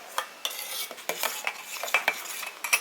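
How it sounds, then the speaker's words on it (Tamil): A spoon stirs crushed pepper into turmeric milk in a pot, scraping and clinking in quick, irregular strokes close by, with no voices. "மிளகை போடுங்க. இப்படி லேசாக கிளறி கொடுங்க."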